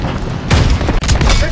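A tank cannon fires in Call of Duty WWII, a loud close boom that rolls into rumbling battle noise, with shouted voices mixed in.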